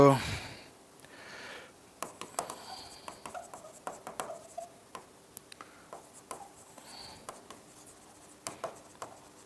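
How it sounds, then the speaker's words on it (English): Pen writing notes on paper: a string of soft, irregular scratches and taps close by, fairly faint, under occasional quiet voice. "I'll write the points first."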